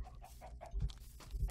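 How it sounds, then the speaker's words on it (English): A chicken in a Pokémon video game gives a short run of quick, clipped clucks, several bursts in a row at close, even volume. "That's chicken."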